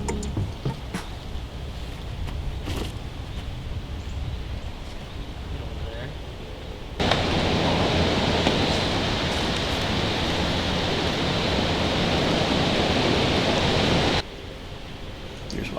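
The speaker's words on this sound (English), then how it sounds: "you hear the creek running, and it's so beautiful" Steady broadband rushing of a running creek on a disc golf course during a tournament, loud and continuous through the middle stretch, with quieter outdoor ambience and faint talk before and after.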